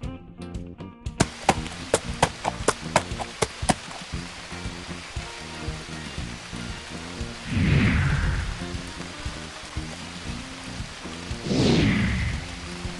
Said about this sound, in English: Rain doesn't bother them.